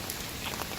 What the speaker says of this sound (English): So we got an inch of rain just now